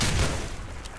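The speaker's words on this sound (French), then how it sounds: "on va le finir au lance-roquette" A rocket launcher shot explodes in the blocky shooter game Cube Conflict, a loud, close, booming blast that fills the clip and fades into a rumbling tail.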